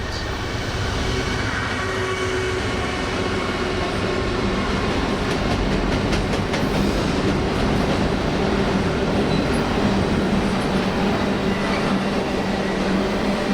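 A westbound stack and rack freight train led by a single ES40DC locomotive rolls past close by, a loud, steady rumble with rail clatter that lasts throughout and has no voices over it.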